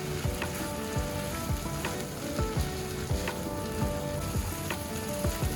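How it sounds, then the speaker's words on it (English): Onions sizzle and crackle steadily in a hot pan while cooking Oriental fried rice, with repeated scraping and clinking strokes of a spoon stirring them at a close, even pace. "Proceed by adding your onions, stir together very well."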